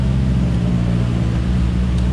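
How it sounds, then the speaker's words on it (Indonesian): Continuous low rumble of trucks and cars on a provincial road in Kalimantan, engines droning steadily as vehicles pass close by, with no break in the noise. "suara truk atau suara mobil banyak yang lewat karena saya di jalan provinsi"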